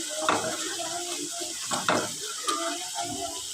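Koi fish sizzling in hot oil in a pan for tel koi, a steady close frying hiss broken by a few stirring scrapes and clinks.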